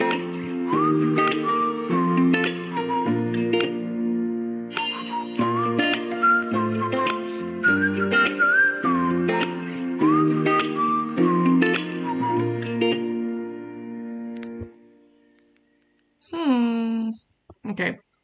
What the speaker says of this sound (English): Is that him, like, whistling in the audio?